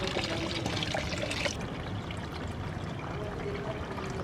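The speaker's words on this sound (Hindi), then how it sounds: "अब इसको हम 20 लीटर पानी से पूरा भर देंगे।" Water gushes steadily into a container being filled to twenty litres for a waste decomposer bacteria culture, a continuous loud rushing pour that softens slightly partway through.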